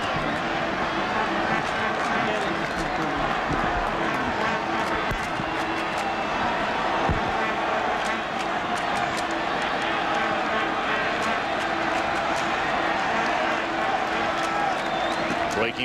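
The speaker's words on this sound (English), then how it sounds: "This crowd, Tommy, may have been making more noise now after Zito got in trouble than they did before in between innings" Continuous crowd roar at a baseball stadium during the 2003 playoff game between the Red Sox and the A's, a steady dense wash of voices and cheering without pause, loud and close throughout.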